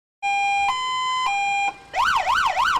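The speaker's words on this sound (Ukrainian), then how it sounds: "Звук сирени у службовій автівці не замовкає" A police siren sounds up close, first a steady two-tone wail, then switching to a fast warbling yelp.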